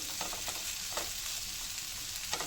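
Vegetables frying in a pan for aloo rolls give a steady close sizzle, with a few soft stirring scrapes breaking through and no talking.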